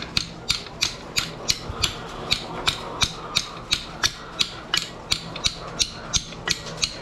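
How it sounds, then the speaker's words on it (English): A wrench works a sprocket off a rebuilt motor with a rapid, even series of sharp metallic clicks and knocks, about two per second, close and distinct over a quiet background. "Put a wrench underneath the sprocket."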